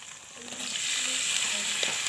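Tomatoes dropped into sizzling masala in a pan for sev tameta shaak, producing a brief, steady, close hiss of frying that swells slightly and holds.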